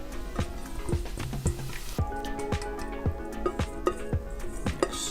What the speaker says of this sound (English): And we'll now pour these on our seasoned veggies